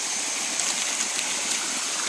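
Irrigation water runs through furrows in a field, a steady close rushing and trickling wash with no pauses.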